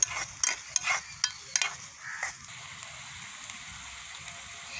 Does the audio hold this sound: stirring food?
yes